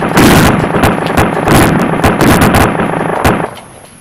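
Rapid gunfire in a video game, loud and close, with dense bursts of shots and sharp cracks rattling almost continuously for several seconds before tapering off, with no one talking.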